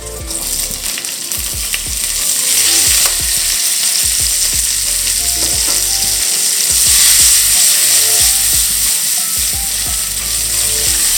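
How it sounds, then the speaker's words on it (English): Bacon and peas fry loudly in a pan, a close, intense sizzle with steady spitting and occasional scraping stir strokes throughout. "right as your bacon starts to get crispy, add your peas just to warm them up"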